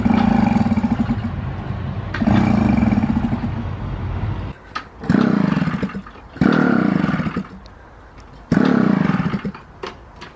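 A small, faulty moped engine revs and idles in uneven bursts, loud and rattly, dropping to short pauses between throttle pulls.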